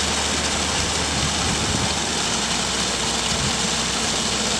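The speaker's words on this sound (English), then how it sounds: "Just keep pumping the water to it." An engine-driven water pump runs steadily at a landfill fire, its loud, constant mid-pitched idle and vibration droning close by without a break and with no voices over it.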